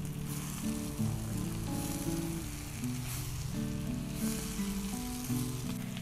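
Sliced bitter melon is tossed into a hot wok with fragrant spices and fries in a steady, dense sizzle, heard close and continuous beneath tonal background music.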